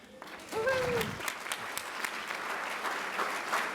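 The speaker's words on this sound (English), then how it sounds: "A cheer for our students who are here." A university audience breaks into loud applause and cheering for students, sustained clapping from a large crowd after a brief voice at the start.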